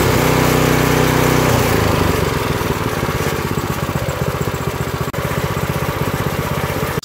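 A rear tine tiller's small engine runs steadily and loudly throughout, with a dense, even mechanical drone and rapid regular firing pulses, close by and alone.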